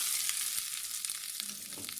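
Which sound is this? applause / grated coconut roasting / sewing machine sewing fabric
grated coconut roasting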